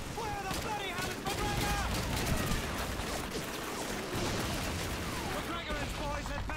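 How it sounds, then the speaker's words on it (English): An MG42 machine gun fires in Call of Duty 2 in long rapid bursts, mixed with other battlefield gunfire and shouting voices over dense, continuous noise. "There's an MG42 on the 2nd floor."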